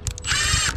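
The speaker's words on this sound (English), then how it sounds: "So this is for metal, so it's got like a little drill bit on the end, and then it should self-tap straight through." A drill drives a self-tapping screw with a built-in drill-bit tip through metal cladding during an EV charger installation, giving a short loud whine that starts after two brief bursts and holds steady for about half a second before stopping.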